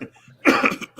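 A single short, close cough bursts out after a brief moment of near quiet.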